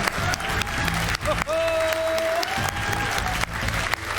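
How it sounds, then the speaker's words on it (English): Continuous clapping from a crowd, dense and steady, with a brief tonal whistle-like sound partway through. "I might just keep clapping."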